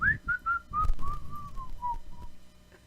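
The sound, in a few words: person imitating a little whistle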